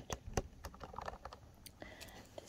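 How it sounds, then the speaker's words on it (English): Light clicky typing on a wireless keyboard, a quick irregular run of soft keystrokes close up and quiet. "This is a wireless keyboard."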